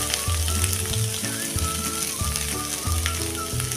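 Crushed potatoes for a yellow potato bhaji sizzle steadily in a pan, a dense continuous frying hiss with repeated low scraping stir strokes roughly every half second, close and loud, no voices.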